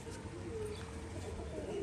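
Pigeons kept for sale in a Rajshahi breed market, cooing in a low, steady murmur that runs throughout under a busy background, with no clear individual calls standing out.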